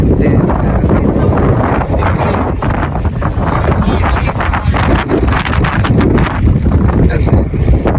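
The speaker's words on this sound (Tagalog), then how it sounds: "Sobrang lakas ng hangin guys," Very strong wind buffets a handheld microphone outdoors while travelling in Taiwan, a loud, continuous roaring rumble with constant gusty fluctuations across the whole stretch.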